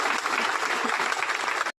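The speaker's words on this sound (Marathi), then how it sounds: "मॅडम साठी जोरदार टाळ्या झाल्या पाहिजे मित्रांनो" An audience applauding for madam at a business club achievers' event, a dense burst of clapping from many hands, loud and close, lasting under two seconds before cutting off abruptly.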